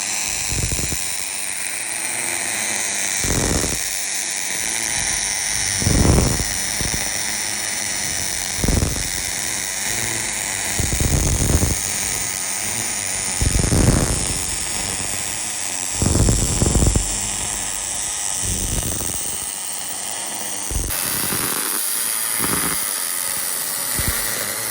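A ZF5 transmission crossmember is welded, producing a loud, steady crackling hiss broken by short bursts and pauses, with no voices.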